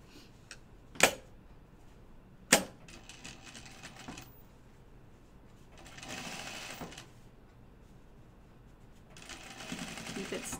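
A sewing machine runs a long basting stitch while slacks are converted to shorts: two sharp mechanical clicks, then quiet intermittent bursts of rapid stitching, close and fairly soft.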